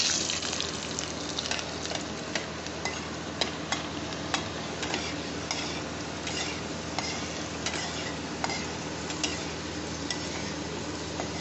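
Whole garlic cloves frying in a pan for a cabbage mash, a steady dense sizzle with scattered light clicks and scraping stirs throughout, close and even, with no talking.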